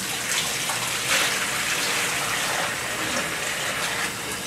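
Water gushes steadily into a sink or pot to rinse cabbage for kapusta, a Polish cabbage dish. The close, continuous rushing and splashing stays loud and even, with small surges along the way.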